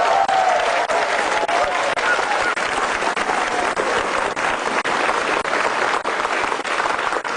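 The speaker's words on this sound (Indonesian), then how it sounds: "Langsung saja beri tepuk tangan yang meriah buat Bapak Basuki Cahayapurnama." A large stand-up comedy audience in Indonesia applauding loudly and steadily for a speaker's entrance, a dense wash of clapping with no break.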